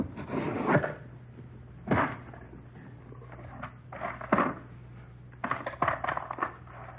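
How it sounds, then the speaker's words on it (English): A taped-shut cigar box is handled and opened, giving several close scraping, rustling and knocking sounds in irregular bursts over quiet room tone. "It's a cigar box. It's taped shut. What's inside, Doctor? Nothing you'd be interested in. I'll open it, Joe."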